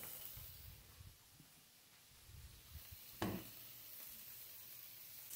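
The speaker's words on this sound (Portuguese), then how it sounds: "Coloca em cima da manteiga e da frigideira quente" Bread buns toasting in butter in a hot frying pan make a quiet, soft sizzle with low rustles and one brief sharper scrape partway through.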